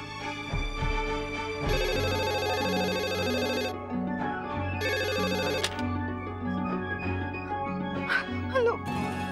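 A telephone rings out on a call to Mohit with a loud, steady electronic ring pattern of repeating tonal bursts separated by short gaps, heard alone.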